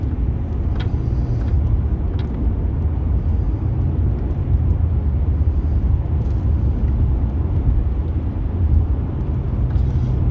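Steady low road rumble and engine drone from inside a car driving at night toward a farm, continuous and even throughout with a few faint ticks above it.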